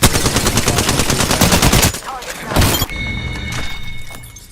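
Rapid automatic gunfire rattles loudly in the Apex Legends video game, a dense burst of shots lasting about two seconds, followed by a heavy impact and a quieter ringing tail.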